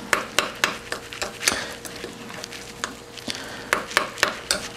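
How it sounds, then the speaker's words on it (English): Chopped parsley stirred into melted, partly congealed butter, giving a run of close, sharp scraping and clinking strokes at an uneven rhythm over a quiet background. "Makes it easy to mix the parsley in."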